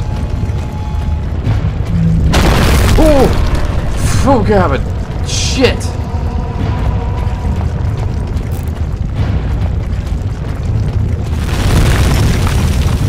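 Giant worm creature in the Penumbra horror game, a loud deep rumbling and booming with grinding mechanical textures throughout, while a man exclaims in alarm over it.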